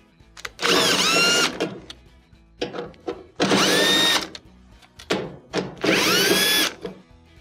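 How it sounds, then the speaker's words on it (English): A power driver whirs in three loud bursts as it backs out screws from the back panel of a Whirlpool dryer, with short clicks and handling noises between bursts. "To remove the console, we're going to take 3 screws out of the back panel."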